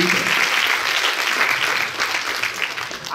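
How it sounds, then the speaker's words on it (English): A seminar audience at a digital marketing talk breaks into dense, even applause, a steady wash of many hands clapping close by for about three seconds, easing slightly near the end. "Let's give a nice round of applause to Deepan."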